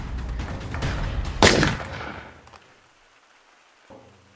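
Gunshot in the Gorilla Tag video game, a single loud booming blast over a rumbling background that trails off into near silence, followed by a faint thump.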